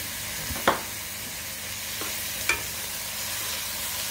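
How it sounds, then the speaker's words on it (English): Minced garlic, a tablespoon of it, sizzles steadily in a hot pan for beef tips and gravy, a constant frying hiss with a few scraping clinks of a utensil stirring, close and without talk. "I'm going to go ahead and put this tablespoon of garlic in here."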